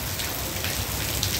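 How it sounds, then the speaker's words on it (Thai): Heavy rain pours down on a street by a busy restaurant in Hat Yai, a dense, even hiss of drops hitting surfaces, close and continuous through the short stretch. "ฝนก็ตกไปสิคะ"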